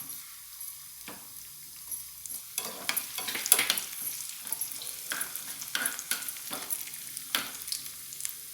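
Raisins fry in ghee for sweet pongal, making a soft, crackling sizzle broken by several sharp stirring scrapes of a spoon against the pan, close by and fairly quiet.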